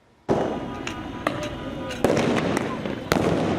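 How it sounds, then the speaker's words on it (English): Police flashbang explosions go off during a downtown Los Angeles protest, several loud bangs at irregular intervals over a steady crowd roar, with people talking throughout. "Explosive flashbangs and clouds of tear gas filled downtown LA last night"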